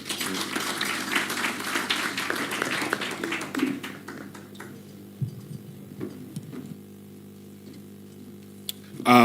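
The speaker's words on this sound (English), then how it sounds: "Another round of applause for the Honorable Paoli Omondi" Applause from an audience at a Kenyan political event, dense and steady for about four seconds, then thinning to scattered claps and a low hum of the room.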